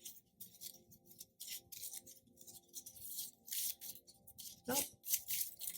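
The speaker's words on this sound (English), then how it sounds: "This is harder to shuffle than in pile one." A deck of tarot cards being shuffled by hand, with repeated soft riffling and sliding bursts in uneven rhythm and one sharper snap near the end, close and quiet.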